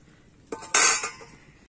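A cooking pot lifted off a kitchen stove after boiling mango, giving a short metallic clank and scrape of cookware, close and fairly loud, with no talking.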